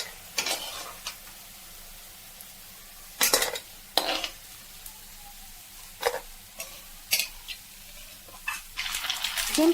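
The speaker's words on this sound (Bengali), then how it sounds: "এগুলোকে একটু লাল করে ভেজে নেব।" Semolina dough pieces for chusi pitha fry in oil over a medium flame, a soft steady sizzle broken by a string of sharp, close metal clinks from a utensil against the pan.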